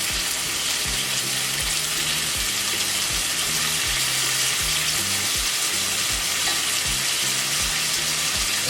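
Thinly sliced chicken frying in a pan with a steady, dense sizzle, close and continuous throughout, with faint low hum underneath and no talking.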